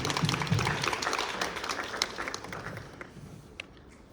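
An audience at a district honor orchestra concert applauds for the parents, steady close clapping that gradually thins and fades over several seconds.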